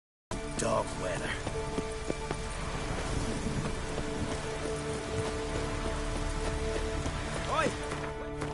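Steady rain falls in The Witcher 3, a constant patter on surfaces with game voices speaking over it.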